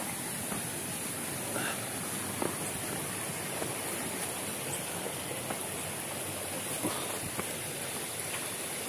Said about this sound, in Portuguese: é o primeiro córrego que nós vamos atravessar